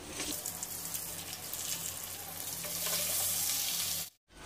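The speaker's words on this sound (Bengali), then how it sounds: "এবার ওই ভাজা আলু, পটল আর গোবিন্দভোগ চালটা এখন এর মধ্যে আমি দিয়ে দিচ্ছি।" Fried potatoes, pointed gourd and Gobindobhog rice go into a hot pan, setting off a steady, loud sizzle and hiss that keeps going before it cuts off abruptly near the end.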